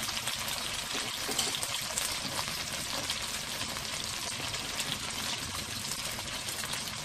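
Chicken pieces fry in a pan with a dense, continuous hiss of sizzling oil, steady and close throughout with no speech.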